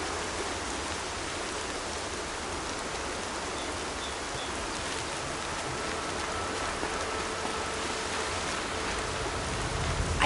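Steady rain falling in a video game, a dense, even hiss of drops on surfaces that continues unbroken and fairly loud.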